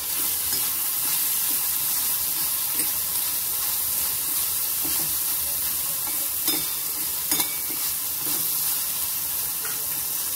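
Green peas roasting and being stirred in a hot pan for pea chutney, a steady close sizzle with occasional scraping clicks from the spoon throughout, no voices.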